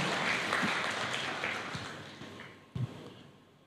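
Church congregation applauding for God during a sermon, a broad wash of clapping that slowly fades, with a sharper burst near the end.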